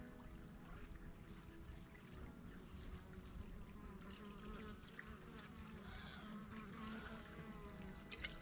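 Faint, soft buzzing of bees flying around fall-blooming plants in a Florida permaculture garden, a low steady hum with no one talking.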